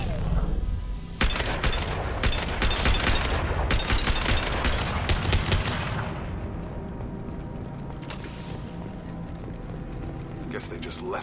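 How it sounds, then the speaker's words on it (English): Sustained automatic gunfire from Blue Suns mercenaries and Vorcha in the Mass Effect 2 video game, a dense crackle of repeated shots over a low rumble that fades into quieter ambience, with a voice talking partway through. "The Blue Suns and Vorcha are shooting anything that moves."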